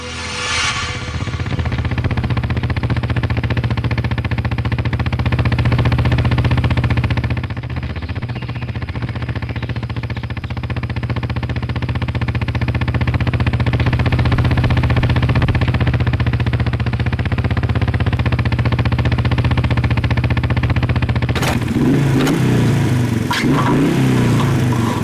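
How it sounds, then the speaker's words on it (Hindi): A faulty motorbike engine runs steadily at idle with a low, uneven rumble, swelling into revs midway, then sputtering and roughening near the end; loud and continuous with no voices over it. "पेट नहीं ली ना, बाइक खराब है।"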